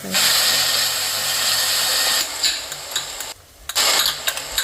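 Onion, garlic and chili paste sautéing in a pan, a loud steady sizzle with scraping and stirring clatter from a utensil, briefly dropping out before resuming.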